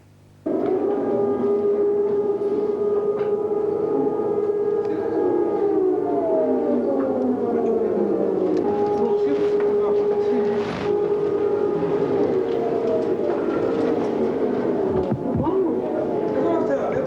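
Air raid alert siren wailing across Jerusalem during the 1991 Gulf War, a loud, sustained mechanical tone that slowly bends in pitch and holds steady for the full stretch, with faint background rumble beneath it.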